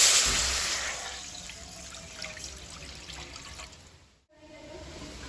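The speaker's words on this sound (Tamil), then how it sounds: "வச்சுருந்த வாழை இலை சாறை ஊற்றிடுவோம்." Banana leaf juice poured into a pan of fried ingredients while making banana leaf halwa, a steady close trickling and splashing that fades briefly near the end, with no talk.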